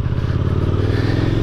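A KTM Superduke 1290R motorcycle engine running up close, a loud steady low throbbing drone with a rapid pulsing rhythm, heard alone without talk.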